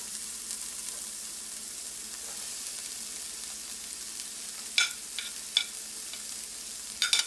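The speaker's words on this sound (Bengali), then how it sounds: "ফুলকপিটা খুব ভালো করে মিশিয়ে নেব" Cauliflower and cabbage being stirred in a frying pan, with a steady soft sizzle and a few sharp scraping clicks of the utensil against the pan toward the end; no voices.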